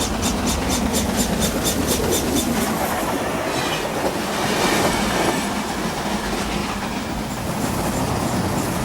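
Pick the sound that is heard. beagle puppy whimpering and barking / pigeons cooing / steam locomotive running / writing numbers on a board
steam locomotive running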